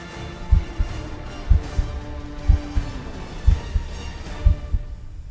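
Heartbeat in a Minecraft Spider-Man game, a loud, steady lub-dub thumping that repeats about once a second, five double beats over a low hum with nobody speaking.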